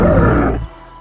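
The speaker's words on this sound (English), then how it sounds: "Now let's hear the sound effects, starting with the roar." Short dinosaur roar from the Dinosaur Simulator video game, a deep, loud, rough blast lasting just over half a second before fading quickly.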